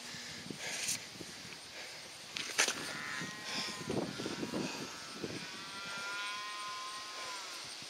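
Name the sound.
sheep bleating on a mountain trail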